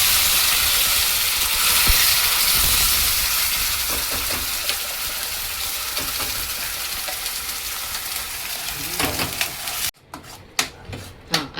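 Ground masala paste frying in hot oil with mustard seeds, cumin and fenugreek seeds, giving a loud continuous close sizzle that gradually softens, then gives way to sharp spoon scraping and stirring knocks.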